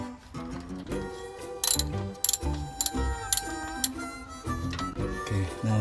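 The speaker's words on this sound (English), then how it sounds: "socket to unscrew the drain plug" A ratchet fitted with a 17mm socket loosens the oil drain plug on a 2013 Acura MDX, giving repeated close metallic clicks in short bursts with brief pauses between them.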